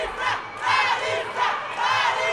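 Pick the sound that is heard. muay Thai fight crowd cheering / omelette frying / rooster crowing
muay Thai fight crowd cheering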